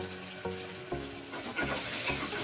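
Chana dal, urad dal, mustard seeds and onions fry in oil in a pressure cooker, crackling and sizzling steadily up close while a spoon knocks and stirs at regular intervals.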